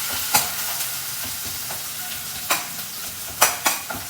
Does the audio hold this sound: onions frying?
yes